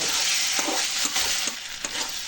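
Hissing sizzle of flat beans frying and being mashed in a pan, with a few soft scraping stirs breaking through the steady crackle.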